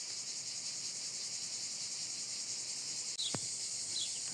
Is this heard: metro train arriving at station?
no